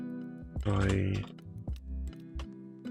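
Keys clatter on a computer keyboard during a Minecraft session, a few quick close taps in short bursts, partly masked by a louder voice and game sounds.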